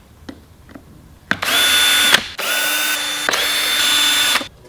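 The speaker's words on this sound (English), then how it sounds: "we're going to be using the drill just to speed things up a little bit" A loud power drill whirs in three long bursts with brief pauses, undoing screws on an electric skateboard's battery case, after a couple of faint clicks, close up.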